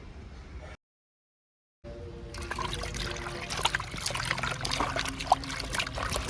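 Chicken pieces rinsed under running water, a brief quiet start and a short silent gap, then a steady close trickle and splash of tap water that continues to the end.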